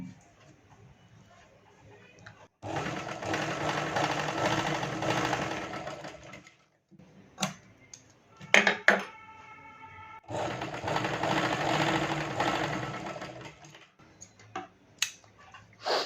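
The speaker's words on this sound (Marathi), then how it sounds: "असं डबलची शिलाई मारून घ्यायचं." A sewing machine double-stitching a blouse runs in two long, steady whirring bursts with quiet gaps between, broken by clicks and small mechanical taps.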